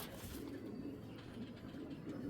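A male racing pigeon gives low, repeated throaty coos at moderate distance over a quiet background.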